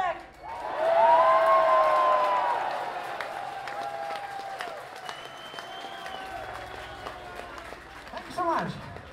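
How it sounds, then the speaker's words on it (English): Concert crowd at a power metal show in Moscow's Volta club applauding and cheering, a broad wash of clapping with whoops and sustained tones, loud at first then thinning out. "Please give a big fat fucking applause to Mr."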